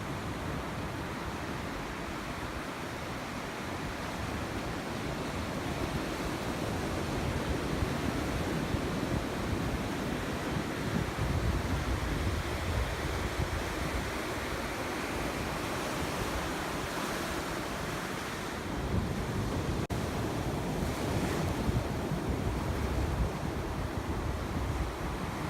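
Surf rolls steadily onto a Hawaii beach, a continuous broadband wash of breaking waves with gentle swells in intensity and some wind rumble, heard from a distance with no talking.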